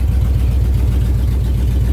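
An engine idles steadily after carburetor and timing adjustments, a loud, close, even low-pitched chugging pulse with no voices.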